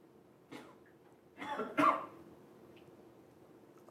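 A few short, dry coughs sound up close in a quiet room, the middle pair louder and closer together, with no talking.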